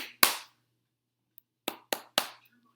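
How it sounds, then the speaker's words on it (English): Hands clapping: one sharp clap, a short pause, then three quick claps in a row, close and clear in a quiet room. "Good job clapping your hands."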